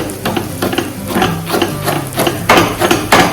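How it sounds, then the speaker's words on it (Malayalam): A knife chops cabbage on a cutting board in a home kitchen, giving a steady run of sharp, close thuds in quick rhythm, getting louder and heavier toward the end, with no talking. "ക്യാബേജ് അരിയാനായിട്ട് കൊത്തി അരിഞ്ഞ് കഴിഞ്ഞാൽ"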